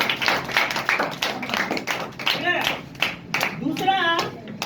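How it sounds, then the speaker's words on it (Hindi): An audience claps for a student at a school prize distribution, a dense run of close hand claps lasting several seconds with voices mixed in. "इनके लिए एक शानदार सा तालियों का नंबर दिया जाए"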